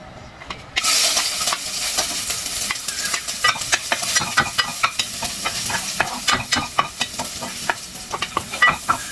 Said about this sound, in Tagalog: At ipa-fry na natin yung ating garlic, onion, and kamatis.